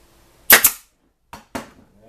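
Pneumatic nail gun powered by an air compressor fires nails into a wooden board: a close, sharp double snap followed by a softer pair of pops moments later.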